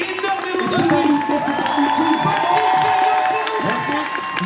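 Conference audience responds with dense clapping mixed with cheers and whoops, a loud continuous crowd wash with raised voices rising through it for several seconds.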